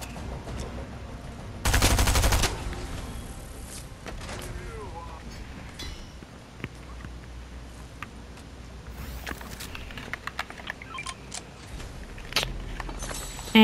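Gunfire in a shooter video game: a dense, loud burst of shots near the start, then scattered sharp shots and clicks continuing over a busy game soundscape.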